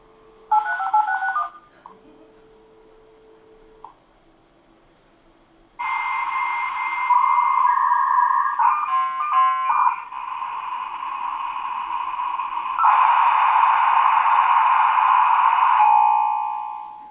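A dial-up modem connects over a simulated phone line, opening with a short burst of dialing tones, then steady carrier tones, warbling handshake chirps and a long hissing screech that fades at the end.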